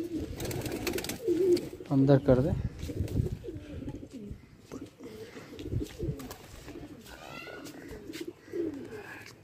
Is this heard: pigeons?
yes